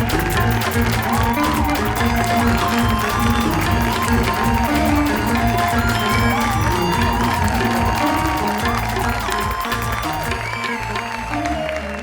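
A studio audience applauds and cheers as a guest is welcomed onto the stage of a talk show, steady loud clapping and crowd noise filling the whole stretch with music underneath.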